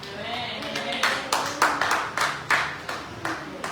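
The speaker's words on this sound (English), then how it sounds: "Clap your hands and God praise her." Congregation clapping at a church sermon, a series of sharp group claps in an uneven rhythm, roughly seven distinct bursts, mixed with some voices.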